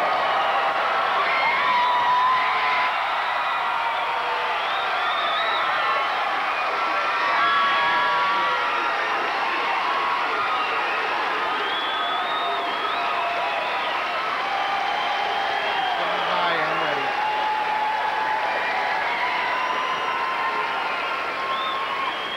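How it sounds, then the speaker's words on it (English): Crowd cheering and applauding for Sullivan High School, unbeaten Class A girls basketball champions at the 1991 IHSA championship, as the trophy is presented; steady, dense applause with whoops and shouts throughout, filling the arena. "As the crowd applauds Sullivan, an unbeaten champion this year in Class A basketball"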